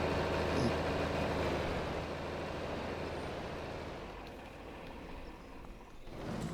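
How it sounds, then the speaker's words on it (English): Tractor engine in Farming Simulator 25, a low, steady idling rumble at moderate distance that slowly fades and then swells slightly near the end, with no talking. "Put the tractor in the shed."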